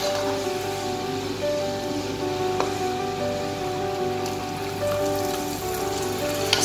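Masala peanuts frying in oil over a low-to-medium flame give a steady, dense sizzle and crackle that runs evenly throughout, with faint tonal hum underneath and no talking.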